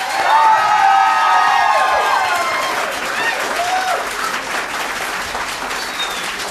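An audience at a staged comedy show on legalizing marijuana bursts into loud applause with cheers and whoops, strongest at the start and tapering slightly while staying dense to the end.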